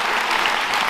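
Loud, dense clapping from an audience at a regional business awards ceremony in Cantal, continuous and even across one short second.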